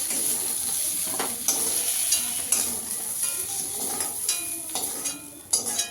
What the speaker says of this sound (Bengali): দেখুন আমার কচুর গাঠিটা আলুটা ভাজা হয়ে গেছে